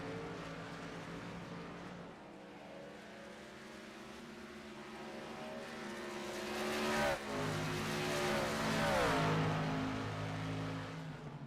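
Race cars drive the Charlotte Motor Speedway Roval road-course layout, with a steady, loud engine drone that swells near the end as a car accelerates and revs through a turn, and a brief tire squeal. No one speaks.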